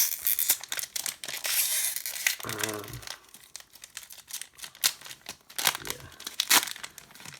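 Foil-lined Yu-Gi-Oh! OCG booster pack wrappers crinkle and rip open in several close, crackly bursts, with a person talking in between.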